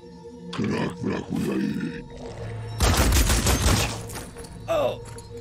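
Gunfire in the turn-based video game Phoenix Point targets a heavy armored soldier, with scattered shots, a loud sustained volley midway and growling game effects around it.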